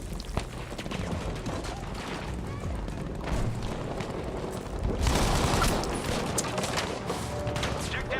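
Gunfire in the video game Battlefield V, a dense, busy battle soundscape with scattered shots and mechanical clatter under steady noise, growing louder partway through, with no clear talking.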